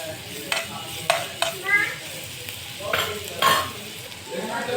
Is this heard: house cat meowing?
no